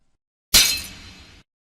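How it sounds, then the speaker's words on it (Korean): A soup bowl slips and smashes on a floor at home, one sharp loud crash of breaking crockery followed by a brief scattering clatter of shards, then silence. "손이 미끄러져 국그릇을 바닥에 떨어뜨렸습니다."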